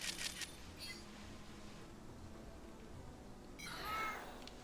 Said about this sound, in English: What's meowing at me?